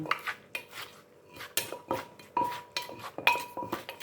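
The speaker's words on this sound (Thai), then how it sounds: "เราก็จะคลุกคลุกให้น้ำเข้ากัน" A utensil tosses a shredded big cucumber salad with crab and fermented fish sauce in a bowl. Close, clattering knocks and clinks come in an uneven rhythm with short pauses.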